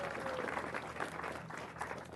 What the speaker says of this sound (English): let's give Clara a big round of applause